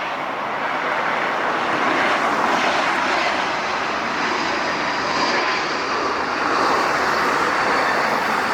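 An ANA Cargo Airbus A330 arriving on the north side at LAX gives a loud, steady jet roar throughout, with no talking.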